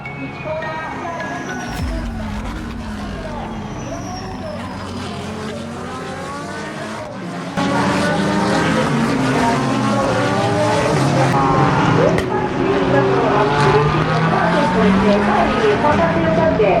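GT race cars from a GT World Challenge Asia field, including Koenigsegg, RUF, Ferrari and Lamborghini entries, roar into the first corner, a loud continuous engine wail with shifting, overlapping revs and a surge in intensity midway, under a commentator's voice.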